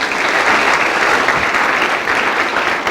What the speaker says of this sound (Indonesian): ya boleh beri tepuk tangan.